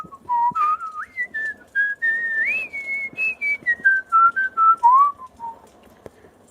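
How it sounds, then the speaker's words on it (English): A lone, wavering whistle outside a house at 3am drifts up and down in pitch in short phrases, eerie and melodic, fairly close with a faint hiss beneath. "The whistling was right outside our house now."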